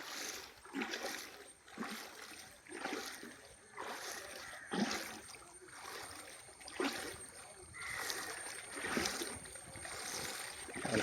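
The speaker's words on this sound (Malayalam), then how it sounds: "കൂട്ടത്തിൽ നല്ല ഒഴുക്കുമുണ്ട്." Fast-flowing floodwater in Kerala rushes and splashes in recurring surges, knee-deep current washing past at moderate loudness, with no one speaking.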